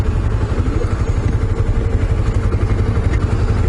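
A motorcycle engine idling steadily and loudly up close, with a rough rumbling throb and mechanical clatter throughout, no voices.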